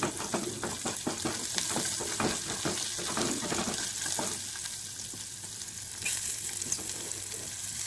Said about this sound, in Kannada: ಈಗ ಅವರೆಕಾಳನ್ನು ಹಾಕಿ ಸ್ವಲ್ಪ ಫ್ರೈ ಮಾಡ್ಕೊಳ್ಬೇಕು